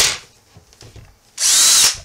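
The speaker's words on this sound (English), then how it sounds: "A drill." A power drill whirs in a couple of short bursts, a brief buzz at the start and then a louder, longer spin up close.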